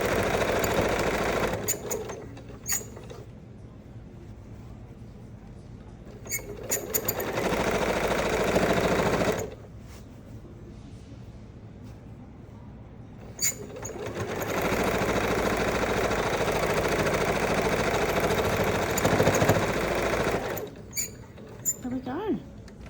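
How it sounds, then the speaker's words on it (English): A sewing machine stitches a fabric bowl in several loud bursts of rapid, rattling needle clatter, with pauses between runs. Someone talks quietly in the gaps. "I just go over the start just to buy a couple of stitches so none of the threads come off"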